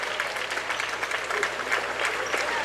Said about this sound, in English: Everyone's giving a round of applause as if they already know how things are going down.